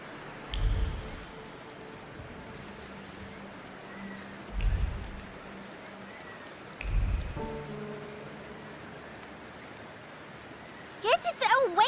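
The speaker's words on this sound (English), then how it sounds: "And now it starts to rain." Rain falling in The Thaumaturge, a steady soft wash of drops under game music and sound effects, with a few low thuds and a voice briefly speaking near the end.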